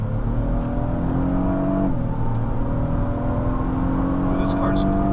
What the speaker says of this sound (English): This car's quick. Yeah, this thing hauls. It gets up to speed quick.